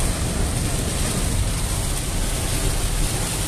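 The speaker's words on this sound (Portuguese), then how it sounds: "Muita chuva, hein?" Heavy rain drumming on a car during a driving lesson, a dense steady wash of noise filling the cabin without a break.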